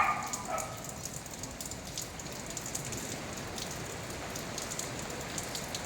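Heavy rain pours down steadily in a continuous dense patter on surfaces, loud and unbroken throughout, with no voices heard.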